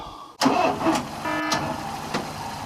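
A Mk3 Ford Escort's engine cranks over with a whirring starter motor after fuel is poured into the carburettor, sputtering in uneven pulses without catching, loud and close.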